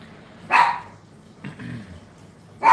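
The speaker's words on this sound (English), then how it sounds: "Guard dogs." Guard dogs bark in short sharp bursts, one loud bark, a softer yip, then another loud bark, fairly close against a quiet background.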